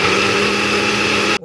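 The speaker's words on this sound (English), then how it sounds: "we're going to blend until it's smooth and silky and potatoey." Blender on its puree setting blending sweet potato soup until smooth, a loud, steady whirring motor roar held for over a second before cutting off abruptly.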